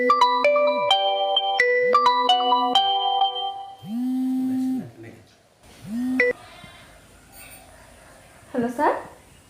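A phone rings during a call, with bright repeated chiming melody tones at the start followed by sustained ringback-style tones and a few shorter chirps, fairly loud and near, with a voice speaking between them.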